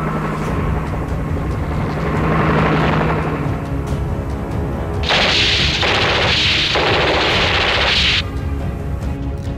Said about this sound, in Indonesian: Penyanyi bar ini dengan berani bergelantungan di helikopter sembari menembaki para anak buah Mary.